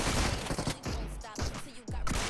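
A DBS shotgun fires several loud booming shots in rapid succession during close-range combat in the mobile game BGMI.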